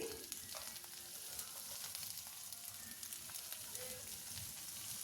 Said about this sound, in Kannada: ಈರುಳ್ಳಿನ ಫ್ರೈ ಮಾಡ್ಕೊಳ್ಳೋಣ